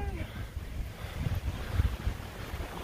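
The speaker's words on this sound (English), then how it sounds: "Kind of windy." Gusty wind buffets the microphone with low rumbling bursts near the top of Stratton Mountain on the Appalachian Trail, a steady outdoor roar, fairly faint and uneven.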